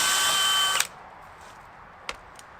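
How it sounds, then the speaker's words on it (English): Power drill pre-drilling deck-screw holes in wood for a rabbit hutch build: one short, loud, high whirring burst under a second, then quiet with a couple of faint clicks. "always pre-drill everything"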